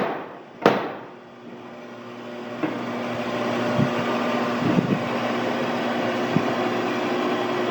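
A Little Giant power hammer starts with a sharp clack as its tapered clutch grabs the flywheel, then settles into a steady whirring mechanical drone, close by, with a few faint knocks scattered over the hum.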